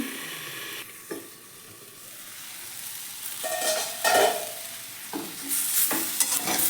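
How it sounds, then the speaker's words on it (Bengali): Mixed vegetables fry in a pan with a close, crackling sizzle that swells and fades as they are stirred, with scraping strokes and a few brief clatters. No talking. "এবার আমি ঢাকা দিয়ে সিদ্ধ করে ভেজে নিচ্ছি।"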